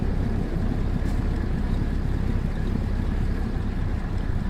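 Truck engine in American Truck Simulator with a slightly throaty tone, a steady, loud, low rumble droning evenly throughout, with no voices.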